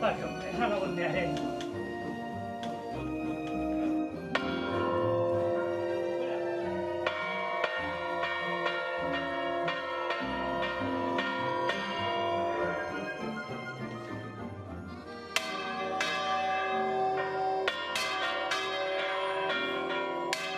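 A single large church bell weighing about 25 arrobas, swung slowly through full turns, rings out in repeated loud, resonant strikes whose metallic hum lingers and overlaps between blows.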